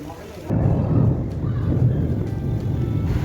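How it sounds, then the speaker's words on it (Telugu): Rain begins outdoors as wind picks up. After a quieter first half second, a loud, broad, rushing roar sets in and holds steady, close to the microphone. "ఆల్రెడీ ఇక్కడైతే వర్షం అయితే స్టార్ట్ అయిపోయింది"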